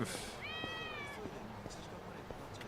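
A cat in the Lost Judgment video game gives one clear, drawn-out meow over a steady hum of background ambience.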